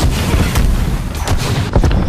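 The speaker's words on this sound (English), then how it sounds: "Alright, grenades out." Grenade blasts in the Call of Duty Cold War video game, loud booming bursts over a dense rumbling battle din, with sharper impacts near the start and end.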